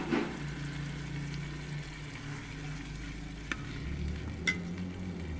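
A large spoonful of garlic frying and being stirred in a pan for a pea and chicken curry: soft continuous sizzle close by, with a few light utensil taps against the pan.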